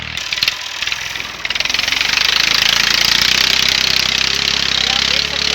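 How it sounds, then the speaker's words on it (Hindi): Tractor ploughing a farm field, its engine starting with a rough knocking rhythm and then settling into a loud, steady, close drone for several seconds. "आप देख सकते हैं ट्रैक्टर के जैसे हल चला रही है।"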